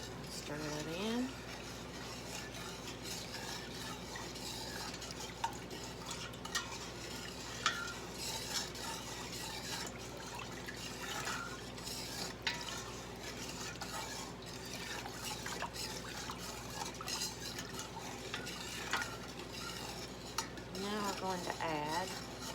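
White granulated sugar being stirred into chow chow relish in a pot, a long stretch of clinking utensil and soft scraping under a low simmer, with someone talking throughout.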